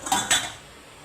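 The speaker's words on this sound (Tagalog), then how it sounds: "Ugas-ugas ang pinggan," Plates and cutlery clatter together twice in quick succession at a home sink while dishes are washed, loud and close, with a fading rattle after.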